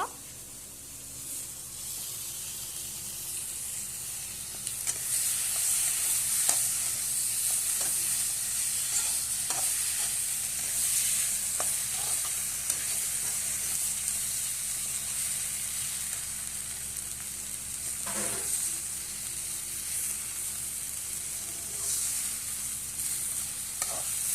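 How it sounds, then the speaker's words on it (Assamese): Boiled potatoes being pressed and mashed in a hot pan while cooking an Assamese spinach fish curry, giving a steady soft stirring and sizzling texture with scattered scraping taps throughout, close and moderately loud, with no talking. "এতিয়া আমি বইল কৰা আলুখিনি দি দিম আপোনালোকে এনেকা আলুখিনি পিটিকি লব"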